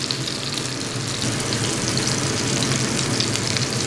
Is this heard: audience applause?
no